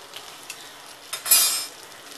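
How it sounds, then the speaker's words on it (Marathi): Stuffed green chillies are turned in a hot pan, with faint clinks at first and then a louder burst of sizzling frying that swells and fades. "अशाच फिरवून फिरवून सर्व बाजूने छान त्यांना ब्राऊन करून घ्यायचे."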